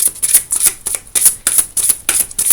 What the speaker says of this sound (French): je balaye le jeu